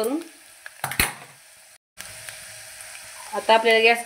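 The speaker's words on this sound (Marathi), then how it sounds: "आपल्याला ही हळद छान तेलामध्ये मिक्स करून छान प्रकारे परतून घ्यायची आहे।" Turmeric sautéing in oil in a pan, with bursts of sizzling, a few sharp utensil knocks and a brief silent gap before the frying hiss resumes up close.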